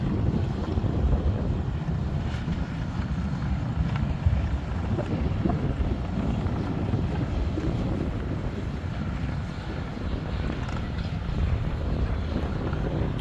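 Constant wind blasting across a South Dakota hilltop, a dense low rumbling roar against the microphone that holds steady throughout, loud and close, with no speech.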